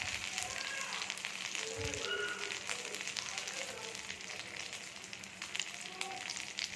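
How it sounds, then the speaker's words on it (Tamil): Paarai fish frying in a pan of hot oil, a constant faint crackling sizzle with scattered pops, steady and close but quiet. "ஸோ இந்த மாதிரி தாங்க மீன் வறுத்துக்கணும்."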